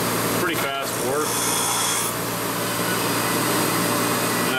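A rotary tool grinds the points off a small model tanker part, a continuous close rasping whir with a few brief scraping bursts.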